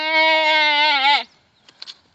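A voice imitating a goat's bleat, one long wavering nasal call lasting over a second, loud and close, followed by a couple of faint soft noises.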